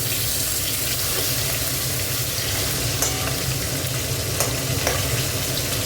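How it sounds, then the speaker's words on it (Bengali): Tomatoes frying and being stirred in hot oil, a loud continuous sizzle with scraping stir strokes and small pops throughout, close and steady with no voices. "তেলটা একটু ভাজা হোক। এবার দেখো টমেটোটা দিয়ে দিচ্ছি।"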